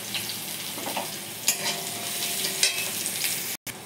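Sliced onions sizzle steadily in hot oil with nigella seeds in a wok, a close, continuous hiss broken by occasional stirring scrapes and a brief pause near the end.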